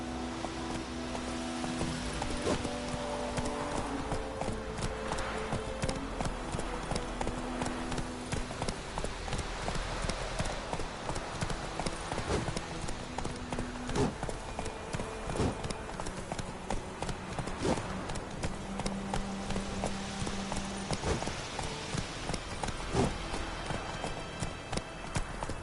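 Steady clip-clop of the horse Roach's hooves in The Witcher 3, a continuous trotting rhythm running throughout beneath game music and ambience.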